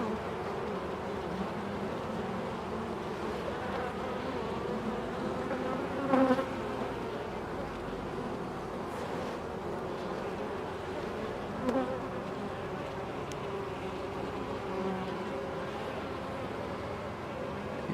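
Honeybees in an open beehive buzz steadily and close up, a dense continuous hum with a few louder passes of individual bees near the ear.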